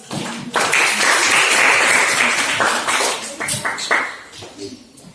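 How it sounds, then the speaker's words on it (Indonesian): Students in a classroom at MTsN 2 Kota Sawahlunto applaud a classmate after her presentation, a dense burst of clapping that holds for about three seconds and then thins into a few scattered claps. "Untuk tema kita yang sudah menjelaskan, Tabina, kita beri aplaus."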